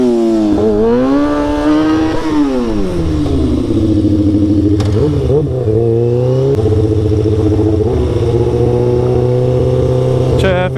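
A motorcycle weaves through slow traffic, its engine loud and close, revving up and easing off in smooth rising and falling pitch sweeps, with a steady low drone underneath and brief clatters.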